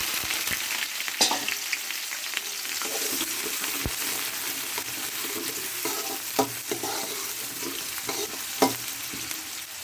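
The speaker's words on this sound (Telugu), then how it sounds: "ఆనియన్స్ మగ్గించుకోవాలి" Onions fry in a pan with cumin seeds and two dried red chillies, giving a steady broadband sizzle with occasional stirring scrapes and clicks throughout, close and fairly loud, no talking.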